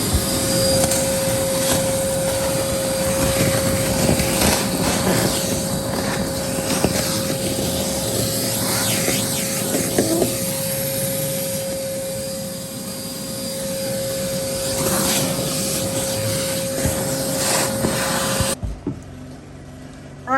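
Steady, loud roar of a vacuum cleaner running continuously while cleaning out the compartments of an oxidized boat center console, with a constant motor whine that cuts off near the end.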